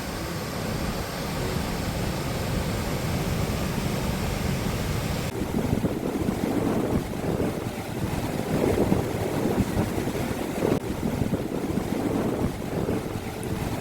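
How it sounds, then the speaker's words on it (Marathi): Excess water released from Khadakwasla Dam near Pune in the monsoon, a continuous broad roar of rushing flow mixed with wind buffeting, steady and loud throughout. "पावसाळ्यात गरजेनुसार धरणातून अतिरिक्त पाणी सोडले जाते."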